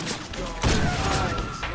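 Gunfire bursts from the video game 50 Cent: Blood on the Sand, a loud volley erupting midway over a busy game soundtrack, with voices talking throughout.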